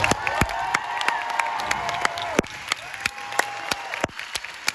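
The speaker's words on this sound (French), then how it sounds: "Je voudrais avec vous à nouveau applaudir nos musiciens extraordinaires." A concert crowd in an outdoor arena at Metz applauds its musicians: steady clapping and some cheering, loud and continuous throughout, with sharp louder claps standing out and a few shouts and voices mixed in.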